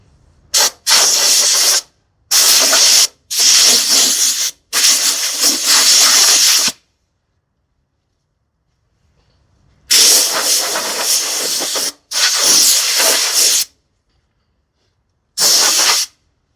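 A spray gun lays paint onto a car fender in loud, close hissing bursts of one to two seconds each, a quick run of several followed by a pause and then a few more, with silence between passes.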